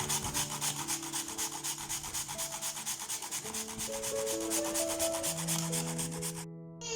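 Fresh coconut is grated with a hand scraper in a steady run of rapid, rhythmic scraping strokes, close and continuous, over faint tonal music in the background.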